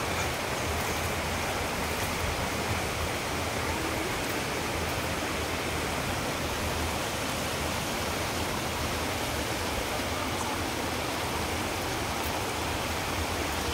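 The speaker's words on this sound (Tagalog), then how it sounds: "Yan po yung tatawirin nating ilog mga friends" A steady, dense rush of flowing water fills the scene, a constant loud river roar with no pauses or voices.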